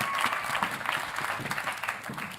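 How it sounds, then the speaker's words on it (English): Applause for the Vancouver deputy mayor at a PWHL expansion announcement: steady crowd clapping that fills the whole stretch with a dense, even patter and no pauses. "big claps for him"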